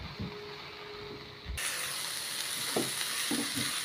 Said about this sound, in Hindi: आतां बरी ती चेरीसाय बीन भाजताय म्हळ्यार पियावूय बरो भाजतलो.